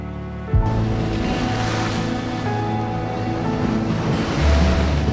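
Ocean waves crash and surge loudly and continuously, with a wide roaring wash of surf and wind, no voices, after a brief quieter start.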